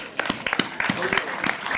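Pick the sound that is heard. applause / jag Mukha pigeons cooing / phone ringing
applause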